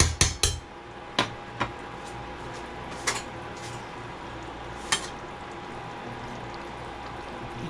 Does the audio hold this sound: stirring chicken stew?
yes